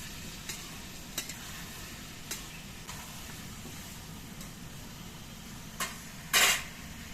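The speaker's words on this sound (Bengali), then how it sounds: "হলুদ দিয়ে নেড়ে চেড়ে মিশিয়ে নিতে হবে" Chhyachra frying with turmeric in a pan, a soft low sizzle under scattered spatula clicks and one brief louder scrape near the end, no voices.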